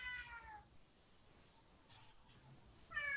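A cat meows twice, once at the start and again at the end, faint and slightly distant, with quiet room noise between the calls.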